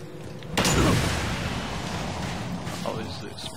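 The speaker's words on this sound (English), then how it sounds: "Suggest using the plasma cannon." A plasma cannon in the video game Red Faction: Armageddon booms out with a sharp crack, then a long rumbling decay, followed by a fainter second burst.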